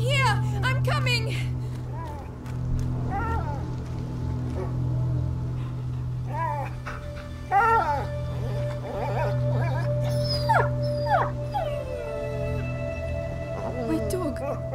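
In A Plague Tale: Innocence, a wounded dog gives repeated high whimpers and wavering howl-like whines over a steady low drone, with voices talking at times.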